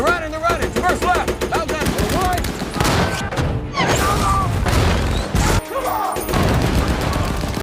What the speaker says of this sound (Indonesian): operasikan oleh Norman, mereka pun mulai membabi buta menembaki semua musuh yang ada